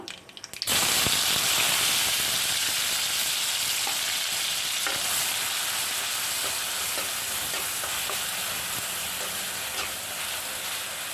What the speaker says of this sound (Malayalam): ചുവന്നുള്ളി ഒരു ഗോൾഡൻ കളർ ആകുന്നവരെ വഴറ്റിയെടുക്കാം